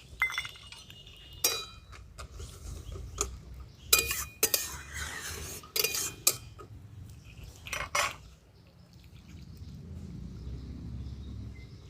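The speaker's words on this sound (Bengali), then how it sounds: "এই বড়িগুলো দিয়ে দিচ্ছি।" Fried lentil dumplings (bori) drop into a pan of simmering tomato curry, with several sharp metallic clinks and utensil knocks against the cookware, then a softer bubbling sizzle near the end.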